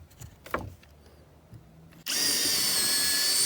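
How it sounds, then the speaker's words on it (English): A power drill pre-drills wooden pieces for a rustic tiny house kitchen remodel. A few soft knocks come first, then the drill kicks in abruptly, whining loud and steady right up close until the end. "I'm taking my pieces, pre-drilling them quick"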